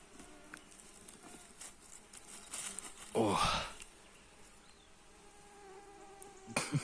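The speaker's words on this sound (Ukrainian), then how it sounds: "Можливо, ви чуєте, як гудуть комариці." Insects buzz faintly in an oak forest during summer mushroom picking. A thin, wavering whine drifts in and out, then a louder buzz passes close by, with quiet rustling and occasional voice sounds.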